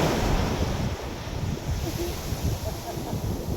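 Big ocean waves crashing on a shore during a storm, a loud continuous roar of surf mixed with heavy wind buffeting the microphone.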